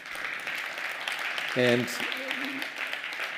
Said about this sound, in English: So a big applause to them.